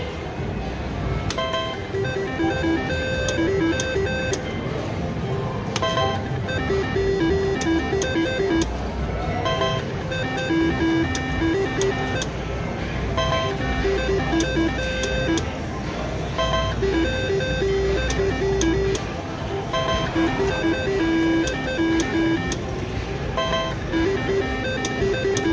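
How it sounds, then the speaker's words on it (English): A high-limit three-reel slot machine with a $30 max bet plays its electronic jingles and tonal chimes nonstop at close range, in a busy, loud casino wash. "Take just one spin to get a massive jackpot on these three reel machines."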